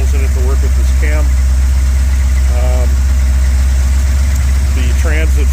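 1969 Chrysler 300 V8 idling after a cold start, a loud, heavy, unbroken low rumble held close throughout, with someone talking briefly over it in several short bursts.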